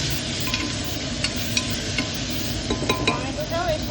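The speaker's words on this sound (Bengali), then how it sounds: "এবার এটাকে ভালো করে কষাবো।" Ginger garlic paste is stirred and sautéed in a pan for a chicken stew, giving a continuous close sizzle with scattered light scrapes and clinks of the spoon.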